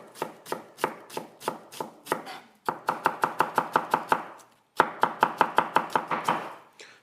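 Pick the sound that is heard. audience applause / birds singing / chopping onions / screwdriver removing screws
chopping onions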